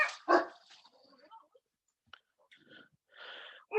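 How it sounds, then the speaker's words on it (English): A dog barks sharply a couple of times indoors, one loud bark near the start followed by quieter yips and huffs, then another burst near the end, with no talking. "Sorry about that for all the barking, by the way."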